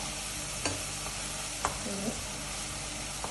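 Sliced onions sautéing in a pan for a simple chicken curry, a steady close sizzle broken by a few sharp spoon scrapes and stirs.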